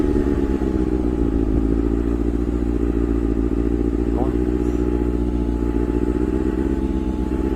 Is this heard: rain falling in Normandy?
no